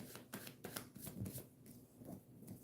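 Tarot cards are shuffled up close in a series of quiet, crisp riffles and slaps, irregular bursts followed by softer handling.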